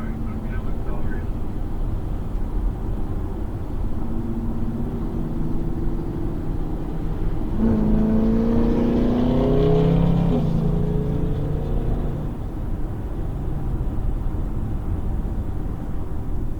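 A modified Jeep Grand Cherokee accelerates on the road, its engine note climbing in a rising drone over steady road and wind noise, heard from inside or alongside the moving vehicle.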